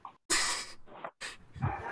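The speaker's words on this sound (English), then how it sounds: "Yo, dog is losing its shit." A dog in the Black Ops 4 Zombies video game lets out a few loud, close, rough bursts of barking and huffing, separated by short silent gaps.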